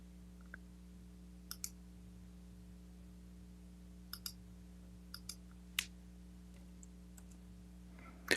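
A computer keyboard tapped in sparse, separate clicks, a few keystrokes spaced out over several seconds. They sit over a steady low electrical hum in a quiet room.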